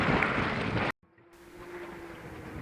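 On Lake Ontario a sailboat runs downwind, wind and water rushing loudly against the microphone, then cutting out abruptly before returning as a softer wash of water with a faint steady tone.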